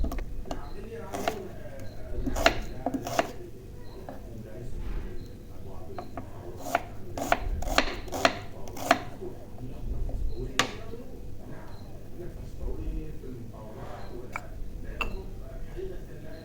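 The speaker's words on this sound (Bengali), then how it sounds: "এখন পেঁয়াজ রসুন কুচি ভালো করে কেটে নিব," A knife chops onion and garlic finely on a board, with scattered sharp taps that cluster into a quick run midway, over background noise and a voice at times.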